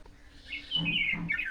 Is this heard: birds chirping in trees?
yes